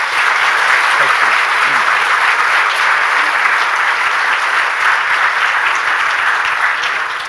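An audience at a rate modernization meeting gives a sustained round of applause, with thick, continuous clapping from a sizable crowd that stays loud and only tapers slightly at the end.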